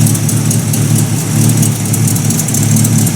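1950 Buick Roadmaster engine idling low and loping close by, a loud steady rumble with a gentle uneven pulse and no talk.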